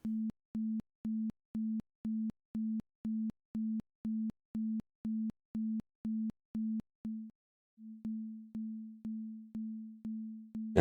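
Square-wave amplitude modulation synthesized in Pure Data: a low steady tone chopped on and off in sharp, evenly spaced pulses, about fifteen quick beats, then a short gap and slower swelling pulses at moderate volume.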